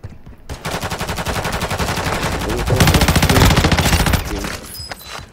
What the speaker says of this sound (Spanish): otro disparo por atrás